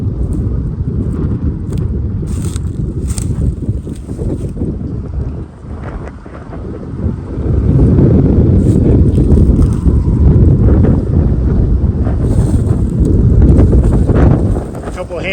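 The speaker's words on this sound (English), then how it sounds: "before it gets too windy so you can't hear me" Heavy wind buffets the microphone with loud, low rumbling gusts that grow stronger halfway through and nearly swallow everything else.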